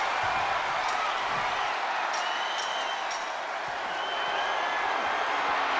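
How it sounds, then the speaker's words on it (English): Wrestling arena crowd roaring during a WWE tornado tag team steel cage match, a dense continuous wash of cheering that holds steady throughout, heard from within the audience with a few sharp accents on top. "The sound of this crowd is deafening, and he's asking for more."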